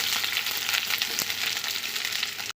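Ridge gourd frying in a pan over a dry-chilli and bay-leaf tempering makes a loud, dense, continuous sizzle close up, with one brief clack of a spatula partway through.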